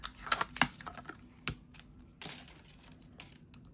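Material peeled by hand off a journal cover, close crackling and tearing with quick taps and crinkles in bursts, then a longer rip, no talk.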